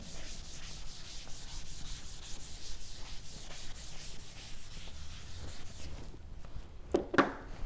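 Steady scratchy rubbing of an eraser wiping writing off a lecture board, close and fairly quiet, ending with a couple of sharper knocks.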